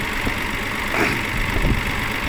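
A T-150 crawler tractor engine idles close by at a landfill, a steady rumbling, continuous low drone with a faint knocking texture and no voices.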